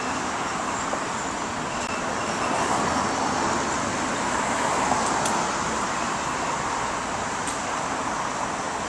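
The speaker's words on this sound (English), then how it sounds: "with the busy traffic on Laurel Canyon Boulevard, the noise" Busy traffic streams along Laurel Canyon Boulevard, a steady loud roadway roar of passing cars and heavier vehicles, continuous and close with occasional faint clicks, no talking.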